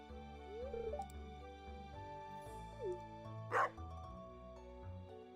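A dog barks in the farming video game Stardew Valley, a short cartoonish yelp over the game's gentle background music, followed by a brief bright chime.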